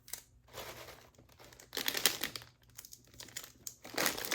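Crinkly cellophane wrapping is folded over a Dollar Tree gift basket holding mineral bath salts, giving soft, irregular rustling and crackling bursts at close range, with no talk.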